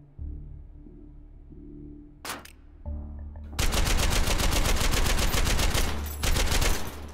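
Gunfire from a firearm in the H3VR virtual reality shooter: a few isolated shots, then a loud, sustained string of rapid, evenly paced rounds that runs to the end.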